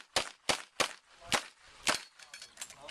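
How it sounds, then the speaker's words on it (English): Revolver shots at a Cajun action shooting match ring out in a quick series of about six sharp cracks, with brief gaps between them and echo trailing each report. "Oh, shoot a revolver."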